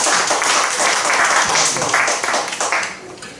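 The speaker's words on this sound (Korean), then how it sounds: "우리 박수로 환영합니다" Audience applause welcoming a returning young guest at a church gathering, a broad wash of clapping that holds steady throughout and swells slightly near the end, with no speech over it.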